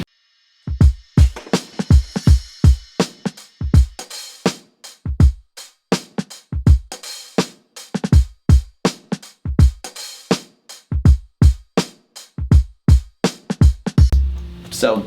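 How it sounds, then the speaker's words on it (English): Jazz rap hip-hop drum beat: punchy kick and snare hits in a steady swung loop with hi-hats, plus a swelling reversed ride cymbal wash near the end, loud and alone without any talk. "So all together, the drums sound like this."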